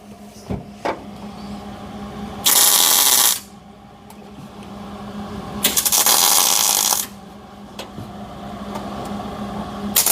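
A welder tack-welds a floor panel into a Trans Am body in a shop, with two loud, harsh bursts of about one second each separated by quieter mechanical background.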